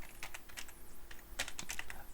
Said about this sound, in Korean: 1등급이라고 그냥 타이핑 치면 수정이 돼요